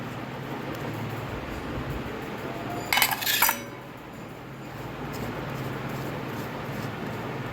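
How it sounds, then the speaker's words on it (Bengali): A knife scraping the seeds out of a pointed gourd (potol) in a home kitchen, a short metallic clinking scrape in the middle, close and crisp, over a quiet background hum. "দুদিকে মুখটা কেটে এবারে ছুরির সাহায্যে পটলের দানাটা বের করে নেবো"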